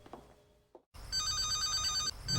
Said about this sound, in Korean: 그날 밤 급하게 전화가 걸려오고